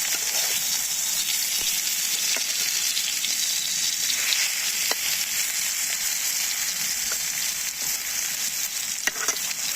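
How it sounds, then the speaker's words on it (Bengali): Steady crackling sizzle of food frying in a pan, continuous and close, with occasional sharper pops and stirring scrapes. "আমরা ভালো করে ভাজা নিতেছি"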